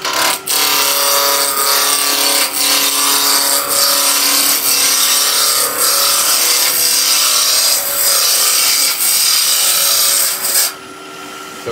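Wood being roughed to shape on a lathe with gouge and skew chisel, a loud continuous rasping scrape with rhythmic cutting passes, close up and without talk.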